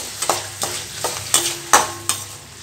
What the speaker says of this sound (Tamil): கொஞ்சம் இந்த வெங்காயம் தக்காளி நல்லா வதங்கட்டும்.